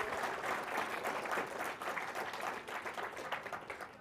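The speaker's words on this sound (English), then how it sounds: "Let's give them a round of applause." Students at a middle school Battle of the Books competition receive a steady round of applause from the audience, with dense clapping that holds for about four seconds and eases slightly toward the end.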